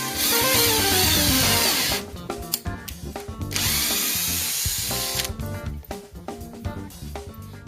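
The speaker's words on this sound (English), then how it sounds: "pre-drill the top of the door for the anti-jump blocks" A power drill whines loudly, pre-drilling holes into the top of a wooden barn door, stopping and restarting in several bursts with grinding, chattering bites.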